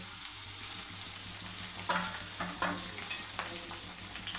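Mustard seeds, chopped onion and curry leaves fry in hot oil for a Tamil Nadu style fish curry, giving a steady close sizzle with a few sharp crackles and pops from the seeds, with no talking.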